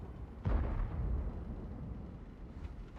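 A single heavy tank cannon blast from the video game World of Tanks booms out, then rumbles and fades away, with no talking.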